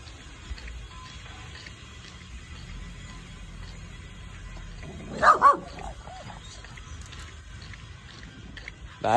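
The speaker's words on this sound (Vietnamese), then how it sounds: "Đây, đây là chó cá." Purebred Vietnamese chó cá fishing dogs in a mangrove forest give a brief double bark midway, rising sharply over a quiet outdoor background before it settles again.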